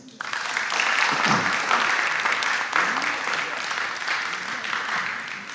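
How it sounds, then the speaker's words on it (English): Steady, dense audience applause fills a school quiz competition between St. Louis Jubilee, University Junior High and M/A CRIG Junior High, holding at an even level from start to finish. "A round of applause, please."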